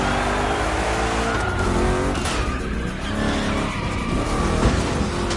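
Cars in the racing game The Crew Motorfest, including big-block Chevys, roar and skid through rough turns, with engine revving and tire squeal in a dense, continuous burst.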